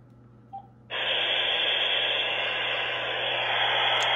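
Dial-up modem connection tones heard through a telephone handset, a sudden loud hissy screeching burst that starts after a brief blip and holds steady and harsh to the end.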